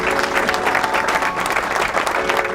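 Loud, dense audience applause fills the space as a popular singer is welcomed onto a village stage, a continuous close wash of many hands clapping.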